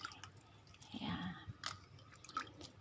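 Water is splashed onto garden soil in a few soft, faint spatters and drips, scattered irregularly over a quiet background.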